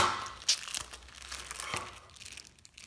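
Thin plastic Ziploc bag being opened one-handed while a large DIY 3D printer is unpacked, giving close crinkling and crackling with a sharp rustle burst early, then softer intermittent rustles tapering off.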